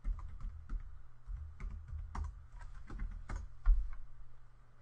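Close, brisk typing on a computer keyboard, a run of distinct key taps with a firmer thump near the end over a low hum.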